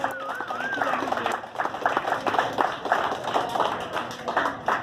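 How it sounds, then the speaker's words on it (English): Guests at an evening reception at the Denver Zoo applaud, a steady patter of clapping mixed with crowd murmur and someone speaking over the start. "If we could please give them a round of applause for hosting us"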